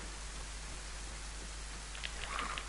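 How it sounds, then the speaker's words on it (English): Steady rain hisses as a soft, even wash in the video game DayZ, with a low hum underneath and a few brief clicks near the end. "I understand it's raining and you can't hear me well"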